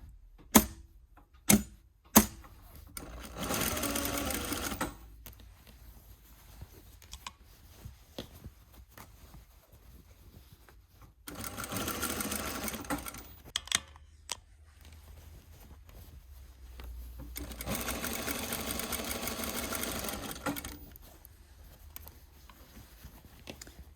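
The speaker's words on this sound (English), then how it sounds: "at the bottom edge of your sleeve, you're gonna sew 2 rows of gathering stitches all the way around between the continuous lap" A sewing machine running two rows of gathering stitches around the bottom edge of a blouse sleeve: three short, fast bursts of stitching separated by quiet pauses, with a few sharp clicks near the start.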